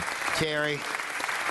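A city council meeting audience claps steadily and warmly throughout, while a voice briefly speaks over the applause.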